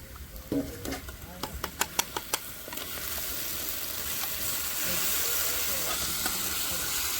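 Paste drops into a hot frying pan for chicken biryani with a few sharp clinks and spatters, then builds into a loud, steady close sizzle that rises slightly toward the end.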